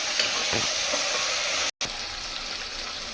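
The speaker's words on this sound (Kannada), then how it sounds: "ಮೆಂತ್ಯ ಸೊಪ್ಪು ಹಾಕ್ತೀನಿ ಸ್ವಲ್ಪ ದೂರ ಇಲ್ಲಿ ಯಾಕೆಂದರೆ ಆರು ಎಣ್ಣೆಗೆ ಹಾಕ್ಬಿಡೋದ ಸ್ವಲ್ಪ ಇದು ಕೂಡ ಫ್ರೈ ಆಗಲಿ" Fenugreek leaves fry in oil for a chicken curry with a steady, close hiss and sizzle, briefly cut off by a split-second gap, with no talk.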